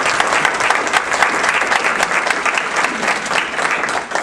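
Warm, sustained applause from an indoor audience welcoming a speaker, dense and loud clapping that holds steady throughout before easing slightly at the end.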